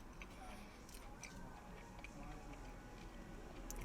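Crunchy bites and chewing on an herb-crusted hash brown from a yiros shop breakfast, with sharp crackly clicks close to the mouth over a low murmur of voice.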